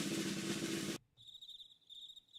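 A cricket chirping sound effect follows a burst of dense noise that cuts off abruptly, leaving faint, high, repeating chirps in quiet pulses, with no talking.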